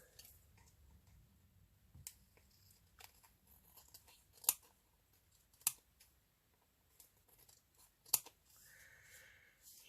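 Scissors trim vellum on a handmade tag, giving a few quiet, sparse snips and clicks spread over a near-silent background.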